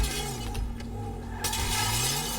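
A Mercedes-Benz car in GTA 5 smashes through a glass pane during a durability test, the brief crisp shatter rising over a steady engine drone.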